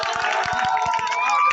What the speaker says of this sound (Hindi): ये नौजवान बहुत ताली बजा रहे हैं